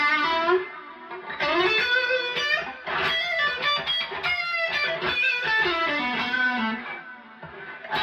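Electric guitar played through a Tone City King of Blues overdrive pedal, bluesy noodling with driven, gritty sustained notes and chords, loud and steady with no talking.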